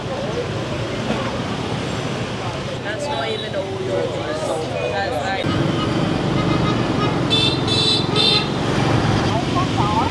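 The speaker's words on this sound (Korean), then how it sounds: "이것이 바로 베트남의 교통입니다" Busy Hanoi street traffic with motorbikes streaming past, engines humming steadily and several short horn toots near the end, while people talk nearby.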